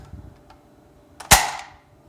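A Nerf AK blaster with a 35-round drum magazine fires once, a sharp loud crack with a short echoing tail, preceded by faint mechanical clicks.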